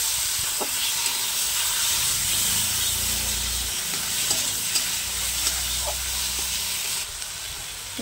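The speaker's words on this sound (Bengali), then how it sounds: "মশলার সঙ্গে মাছটা আমি হালকা করে একটু ভেজে নিচ্ছি।" Note fish frying with turmeric, salt and chilli powder in a pan, a loud continuous sizzle and hiss with a few faint stirring scrapes, no talk.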